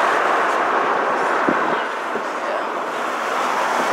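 An empty BNSF military freight train rumbles past near a bridge trestle, a steady loud roar of rolling cars with wind-like noise throughout.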